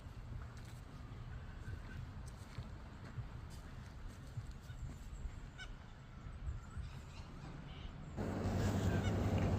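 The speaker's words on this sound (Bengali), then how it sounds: "পাখির কিচিরমিচির শব্দ স্বাভাবিকভাবে" A flock of birds calls on a winter morning at Halls Gap, Australia. The calls are faint and scattered over a steady, rushing outdoor background that grows louder near the end.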